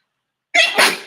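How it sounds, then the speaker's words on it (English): A single sharp sneeze triggered by dust bursts out loud and close from silence, in two quick parts. "Time spent with dust in your nostrils. Yeah, sneezing."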